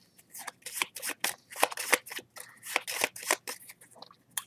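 Playing cards being shuffled, a quick run of crisp riffling and flicking bursts that carry on steadily for several seconds, close up and fairly quiet, with no voices.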